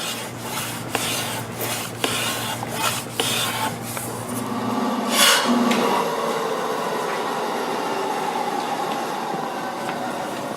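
Rough, rhythmic rasping strokes at close range as guitar wood is rough-sanded, about half a dozen quick passes, then a scraping burst and a steady gritty rub continuing to the end.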